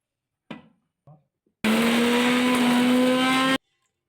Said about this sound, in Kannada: ಈಗ ತೆಂಗಿನ ತುರಿ ಹಾಕಿ ಮತ್ತೆ ರುಬ್ಬಿಕೊಳ್ಳುವ.